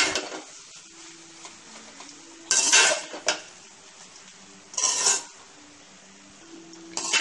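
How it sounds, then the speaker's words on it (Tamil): Basmati fried rice stirred in a pan with a metal utensil, giving three sharp scraping clatters against the pan over a faint background hiss, with no talking. "இது நல்லா பாஸ்மதி ரைஸ். இது நல்லா கலக்கணும்."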